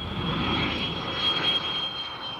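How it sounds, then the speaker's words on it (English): Jet aircraft passing overhead near the church tower at Whitchurch, a steady broadband engine roar with a high whine, moderately loud and heard alone. "They say that aircraft would miss the church tower at Whitchurch by only about 12 feet."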